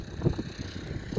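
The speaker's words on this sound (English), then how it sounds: "Here goes the wind again." Wind gusts over cleared homestead land where a driveway is being marked, buffeting the microphone as a low, uneven rumble that rises and falls over a steady hiss.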